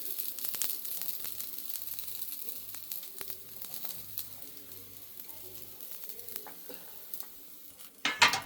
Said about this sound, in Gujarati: હવે મકાઈના દાણા મૂકી દઈશું આપણે